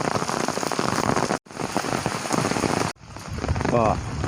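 Steady rain falls at a viewpoint over the Lam Phra Phloeng dam, a dense, even hiss of drops hitting surfaces. It stays close and constant, broken by two brief cuts.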